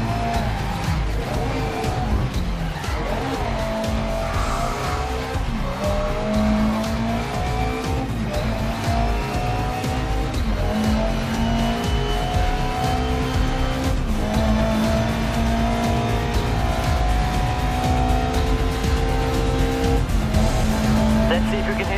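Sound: race car tires skidding in handbrake slide, GRID Legends video game

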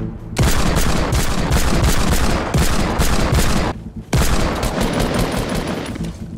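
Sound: gunfire in Fortnite video game

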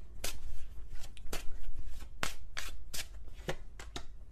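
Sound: shuffling tarot cards

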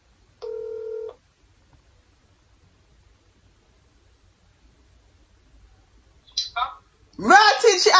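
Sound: telephone dialing tones when calling back

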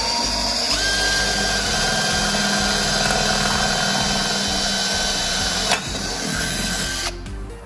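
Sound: drilling a hole in car body

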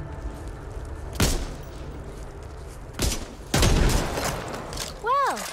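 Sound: gunfire in Back 4 Blood video game

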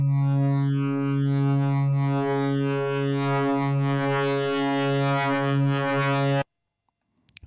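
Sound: Access Virus TI synthesizer frequency modulation sine oscillator

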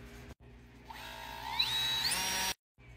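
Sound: drilling pilot holes in a pipe

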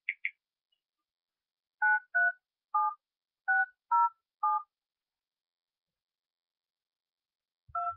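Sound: telephone number being dialed, touch tones

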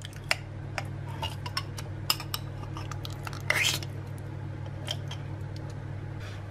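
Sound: whisking marmalade into cake batter

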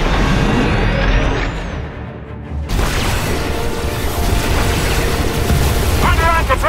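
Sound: defensive cannons firing at ships in Star Wars video game

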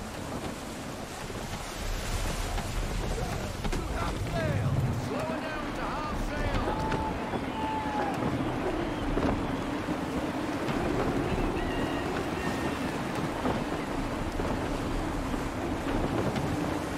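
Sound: gusty wind at sea in Assassin's Creed 3 video game

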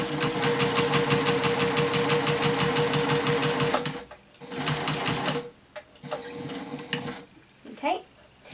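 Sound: sewing machine stitching fleece and cotton cloth pad

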